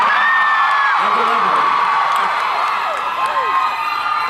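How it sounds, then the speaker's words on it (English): A convention panel crowd at Comic Con screams, whoops and cheers continuously, a dense wall of high-pitched shrieks and shouts holding steady throughout with rising and falling individual whoops. "Let's hear some more screaming."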